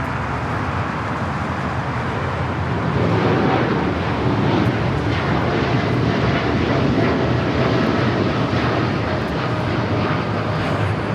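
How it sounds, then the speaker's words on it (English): A United Airlines Boeing 787-9 Dreamliner takes off from Los Angeles LAX, its engines roaring in a loud, steady broadband rumble that swells slightly after the first few seconds and holds strong throughout. "1591 taking off to Newark on the 787-9 Dreamliner."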